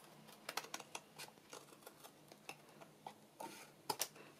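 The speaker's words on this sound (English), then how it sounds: "So all I'm going to do is cut from there to there with my scissors on the diagonal." Scissors cutting diagonally across paper for a craft treat holder, a quiet close series of crisp snips and clicks in an irregular rhythm, heard alone.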